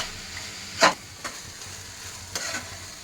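Cashews and poppy seeds fry in a pan, a soft background sizzle broken by a sharp stirring scrape and a few lighter clinks, close by and without talk.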